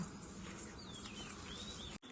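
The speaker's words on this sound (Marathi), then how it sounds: "पक्ष्यांचा आवाज किलबिलाट" Faint high chirps and short whistled bird calls drift over a steady hiss of outdoor background noise, ending with a brief dropout.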